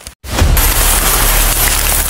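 Heavy rain pours down in the mountains, a loud, dense, steady hiss that sets in after a brief gap and holds without letting up.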